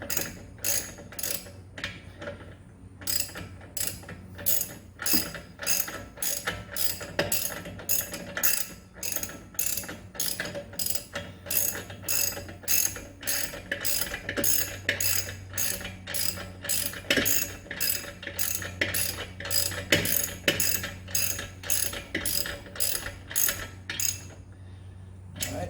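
A ratchet wrench tightens the caliper bolts on a Tesla Model 3 Performance brake, its rapid metallic clicking running in steady repeated strokes up close for a long stretch, with only brief pauses between pulls.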